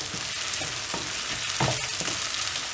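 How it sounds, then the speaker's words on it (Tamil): Ginger garlic paste fried with green chillies in a pan for a spinach prawn gravy, giving a dense, constant hiss of frying with a few soft stirring scrapes. "இஞ்சி பூண்டு பேஸ்ட் வந்து நல்லா வதங்கி விடணும்."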